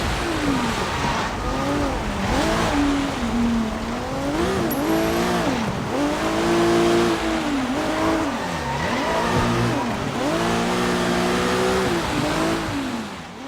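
Car engine droning and revving while driving in the Sleeping Dogs video game, loud and continuous with rising and falling pitch as it accelerates, plus occasional tire squeal.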